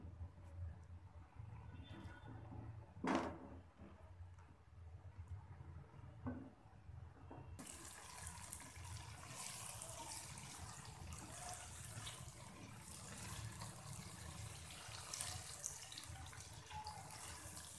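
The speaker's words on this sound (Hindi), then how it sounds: "दाल को तकरीबन 2 मिनट तक भूनने के बाद इसके अंदर मैंने 3 कप पानी ऐड कर दिया है।" Water pours steadily into a cooking pot of fried, pre-soaked daal mash lentils, a continuous close splashing rush that starts suddenly partway through and holds at even loudness, after a quieter stretch with a few clinks and knocks.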